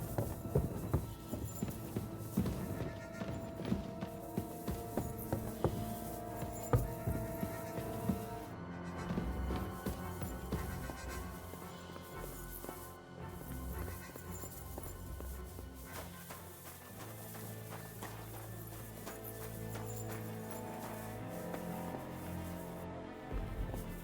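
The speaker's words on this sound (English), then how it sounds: "The horses are here." Horses clip-clop in the medieval video game Kingdom Come: Deliverance, their hooves giving a faint, rhythmic beat under a busy layer of music and ambience.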